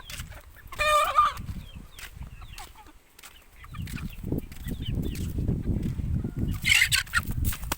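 Chickens cluck and squawk nearby, with a sharp crowing cry early on, over rustling movement and background noise.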